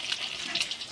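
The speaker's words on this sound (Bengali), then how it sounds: "এই যে মাছ ভাজা হচ্ছে" Fish fries in a pan in a home kitchen, making a soft crackling sizzle with small bright pops, close by and fairly quiet.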